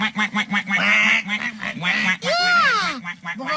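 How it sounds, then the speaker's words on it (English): A duck quacks in a short series of nasal, honking calls, repeated several times and then ending in one longer drawn-out call, close and fairly loud. "Yeah, that sounds like a duck."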